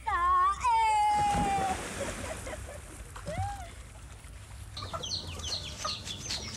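Chickens clucking and a rooster calling in a home farmyard at evening feeding time, with ducks, turkeys and dogs gathered nearby; loud close bird calls at first, then a busy, lower-level mix of clucks and chirps.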